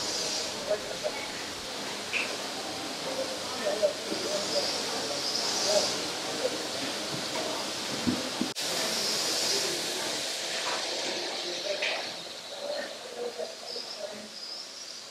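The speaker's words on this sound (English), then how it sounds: "Here are a selection of steam engines that were used on site for various jobs." Steady hiss of a working steam engine at a pumping station, a continuous airy rush with occasional clanks and puffs, moderately near, with faint voices in the background.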